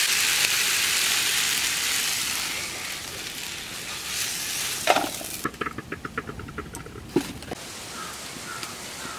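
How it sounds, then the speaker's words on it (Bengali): Potatoes tumble into a hot pan in a village kitchen and are stirred, a broad sizzle giving way to a run of quick scraping clicks from the spoon against the pan. "এবারে আলুগুলো আমি ঢেলে নিচ্ছি।"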